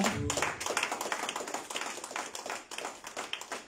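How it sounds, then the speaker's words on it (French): Congregation clapping hard in a church service, a dense run of many hands beating together without a break, loud and close all the way through, with no voices over it. "Tu peux applaudir très fort le Seigneur."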